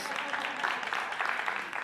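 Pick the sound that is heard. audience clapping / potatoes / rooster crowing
audience clapping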